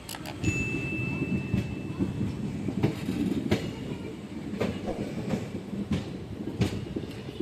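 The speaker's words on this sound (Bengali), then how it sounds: "এই আমাদের ট্রেন ছেড়ে দিয়েছে" A train from Kolkata toward New Jalpaiguri rolls along the rails with a steady rumble and periodic clickety-clack thumps, plus a brief high whine near the start.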